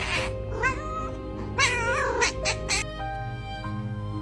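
A cat meows loudly and close up in a series of drawn-out, wavering cries, with short pauses between them and a quieter ending.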